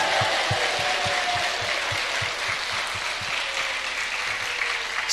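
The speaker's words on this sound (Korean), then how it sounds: "Clap your hands to Jesus one more time." A church congregation claps their hands in a sustained, dense burst of applause, with a faint regular low thumping beneath the even wash of clapping.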